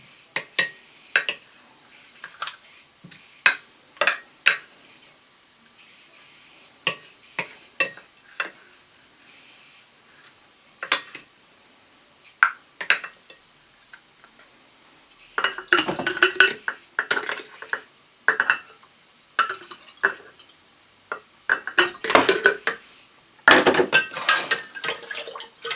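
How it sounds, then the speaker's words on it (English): A spoon stirs grated ginger and sugar in a pot, giving sparse clinks and scrapes against the metal that grow busier and denser toward the end, close and fairly quiet. "And just keep stirring until the sugar is completely melted."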